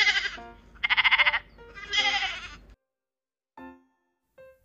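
Several loud, wavering sheep bleats close by, followed by silence and a couple of short, fainter calls.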